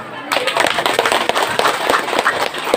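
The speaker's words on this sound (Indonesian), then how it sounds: "tepuk tangan." An audience at an Islamic religious gathering breaks into sustained, fairly loud applause, a dense run of sharp hand claps that carries on for several seconds.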